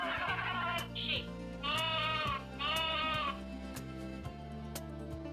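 Sheep in a children's cartoon animal sequence bleat in three wavering calls, one brief and two longer, set over a steady, bouncy background tune.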